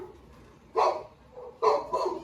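Two loud, close barks from a pregnant guard dog, each a short broadband burst, the second followed by a quicker trailing yelp, with a quiet pause between them and no talking.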